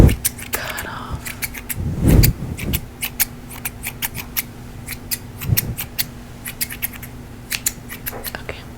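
Scissors snip hair up close in a quiet ASMR setting, a series of crisp, irregular cuts with soft rustles and brief whispered speech between them.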